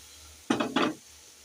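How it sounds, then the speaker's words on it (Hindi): Sugar syrup hits semolina roasting in a hot pan, giving two quick close sizzling bursts with a faint scrape of stirring, then falling quiet. "जो ये हमने चाशनी बनाई थी वो इसमें मैं ऐड कर रही हूँ"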